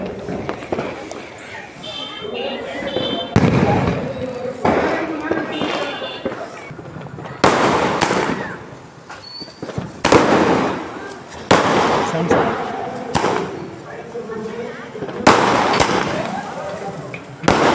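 Diwali fireworks and firecrackers burst repeatedly, sharp loud cracks and booms at irregular intervals, with people talking in the background between the blasts.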